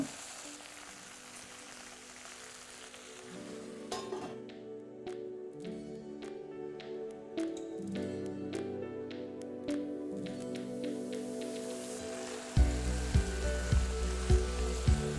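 Okra tossed with turmeric and salt, frying under a lid over very low flame: a faint, steady sizzle with occasional soft crackles, running under background music.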